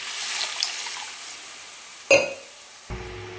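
River fish curry masala sizzles in a pan, then water is poured in with a sudden hiss and splash, after which the loud frying settles into a quieter bubbling.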